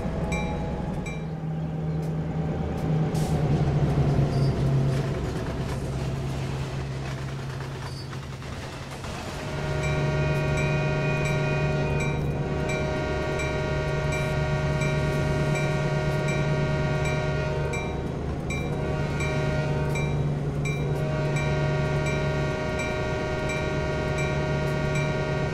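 Canadian National freight train in a train simulator on the Oakville Subdivision, rolling at about 60 mph with a steady locomotive drone, sustained tonal hum and rail clatter, continuous and fairly loud throughout.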